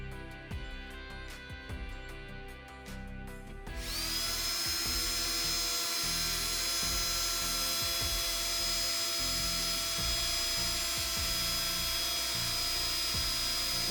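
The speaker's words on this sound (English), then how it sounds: "So we have to use a regular hand drill." A high-pitched hand drill whines steadily after a few seconds of clicking and handling, running continuously at close range while drilling a small hole for a forged knife's tang.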